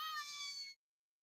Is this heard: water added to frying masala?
no